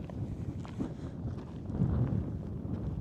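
Wind rumbles and buffets against the microphone outdoors on a path in Lanzarote, a low, steady roar that swells briefly partway through.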